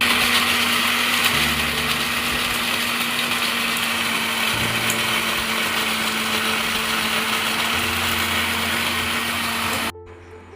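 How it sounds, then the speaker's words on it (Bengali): A mixer grinder whirs steadily as it grinds chopped coconut pieces, a loud, close, constant high-pitched motor whine with slight pitch shifts, cutting off abruptly near the end. "প্রথমে নারকেল কুচো কুচো করে নিয়ে মিক্সার মেশিনে দিয়ে ভালো"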